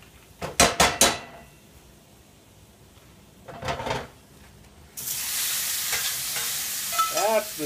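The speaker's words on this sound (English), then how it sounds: "That's the sizzle I like." Shrimp egg rolls frying in hot oil give a bright, steady sizzle that surges in partway through, preceded by a few clattering stirs and pan knocks.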